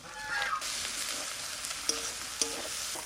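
Ginger, garlic, coriander and green chilli sizzle steadily in hot oil in a pan for a chicken curry, a close continuous frying hiss with a couple of faint clinks, no talking.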